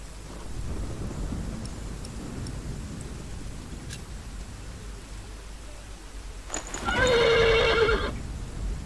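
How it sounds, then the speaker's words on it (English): A horse neighs loudly and close for about a second and a half near the end, after a long stretch of low outdoor rumble, set in a medieval scene beside a sleeping guard. "The horse nearly woke the guard."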